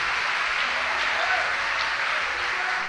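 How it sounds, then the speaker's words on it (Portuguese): Steady, dense applause from a church congregation during a sermon, a continuous broad wash of clapping filling the whole stretch. "Pode aplaudir."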